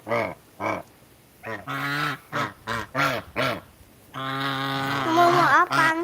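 A goose honks loudly and repeatedly at close range, first in short bursts and then in a longer, drawn-out run of calls, with no talking over it.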